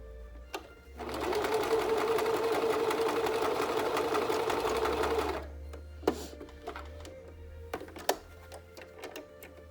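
A sewing machine stitches fabric for a no-fog face mask in one steady, fast whirring run of about four seconds, then stops, leaving light clicks and handling noises.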